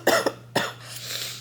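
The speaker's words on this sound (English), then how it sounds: "I do have a lingering cough," A person's lingering cough during a sick day at home: two quick close coughs followed by a third, then breathy quiet.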